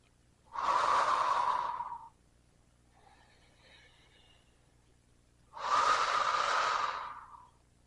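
Deep breaths during a Pilates exercise, two long, audible airy exhalations or inhalations close to the microphone, each lasting over a second, separated by a quiet pause with faint background sound.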